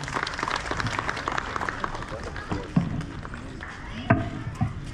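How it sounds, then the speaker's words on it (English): An audience at a Republic Day celebration at a Hindu temple in Arua breaks into scattered clapping that mixes with crowd noise and voices, a few louder claps standing out toward the end. "we need to clap for her once again"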